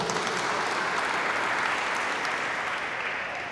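A church congregation at a book launch applauds in a steady, full burst of clapping that fills the room and stays level throughout.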